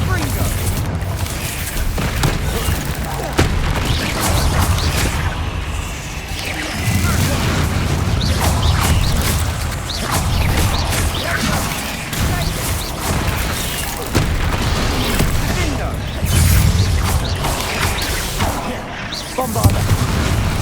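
Bombarda blasting spells in Hogwarts Legacy: repeated heavy booms and crashing impacts burst over continuous loud combat noise, with a few brief lulls between volleys.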